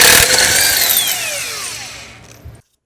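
A power tool whirs loudly and close in a garage while a wheel is taken off a truck, one burst fading out over about two seconds, with no voices.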